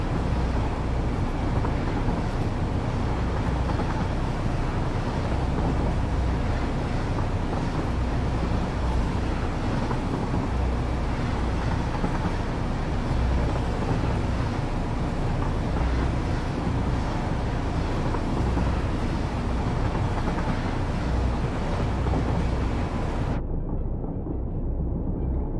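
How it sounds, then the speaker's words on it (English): Steady loud rumble of a train running in the video game Satisfactory, a dense broadband roar that continues unbroken for most of the stretch and cuts off abruptly near the end, with no talking. "train is quite loud."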